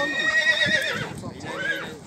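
A horse at a livestock market whinnies loudly and close, a rising then falling neigh with a faint clip of hooves, while people talk nearby.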